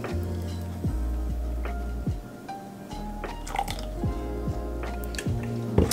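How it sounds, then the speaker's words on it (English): Liquid ingredients for a vegan mac and cheese sauce are poured in, making quiet, irregular drips, glugs and squishy splashes close by, with no talking. "I feel like I'm pouring in these ingredients and it looks so sketchy"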